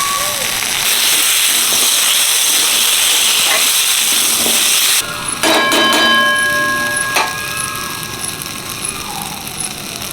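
Potatoes, ginger and salt sizzle in a hot pan with a loud, steady hiss for about five seconds, then the sizzle drops and crackles unevenly as the ingredients settle, with scattered clinks over it.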